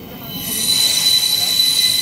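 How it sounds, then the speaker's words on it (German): A steam train rolls into Singen station with a steady high wheel squeal and rail noise building over two seconds, close by and loud, with no talk. "jetzt fahren wir in den Singener Bahnhof ein"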